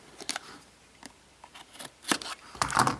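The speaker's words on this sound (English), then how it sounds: "So we have a little tab here to cut." A small tab on a Samsung Galaxy Tab 3 7.0 retail box is cut, giving a few crisp, close snips and clicks spaced apart, getting louder and busier near the end.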